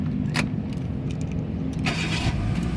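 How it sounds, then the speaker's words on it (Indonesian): A Hyundai i10 1.1 automatic car from 2012 cranks and starts with a brief burst of noise amid close jangling keys over a steady low rumble. "sekarang kita coba nyalakan mobil"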